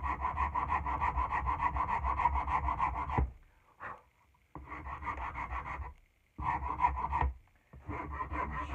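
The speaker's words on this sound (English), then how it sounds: "Now we're going to take our rasp and bring those octagonals." A hand rasp files the octagonal facets of a wooden tool handle in long, steady back-and-forth strokes, loud and close, broken by brief pauses between passes.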